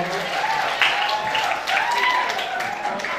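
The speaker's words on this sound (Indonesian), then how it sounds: "Beri tepuk tangan yang meriah dong" Seminar audience at a motivation session giving a lively round of clapping, a steady crackling wash of hands that swells in places while a voice carries on over it.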